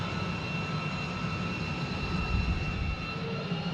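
An F-35 Lightning II jet engine runs in a hover pit with a loud, steady roar and a constant high whine layered over broadband rumble, unbroken throughout.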